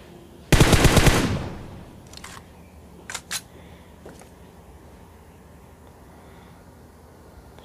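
PUBG Mobile gunfire: a loud rapid burst of automatic shots near the start, then a few sharper isolated reports and clicks over quiet game ambience.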